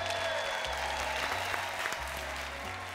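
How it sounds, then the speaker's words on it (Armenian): An audience applauds at the final of a performance competition, a steady, even wash of clapping heard at a moderate distance and fairly soft, over a low electrical hum. "Իրենց ծափահարություններով"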